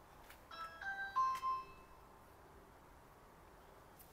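A doorbell chime sounds a few quick tones in a quiet room, fairly faint and heard alone with no talking over it.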